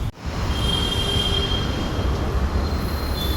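A metro train rolls along in a steady, loud rumble, with thin wheel squeal riding over it for the whole stretch and no one talking.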